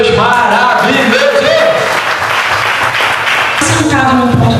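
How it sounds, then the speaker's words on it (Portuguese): A church congregation applauds, the clapping blending with loud cheering and raised voices that swell throughout and stay close. "Agora você aplauda esse Deus maravilhoso"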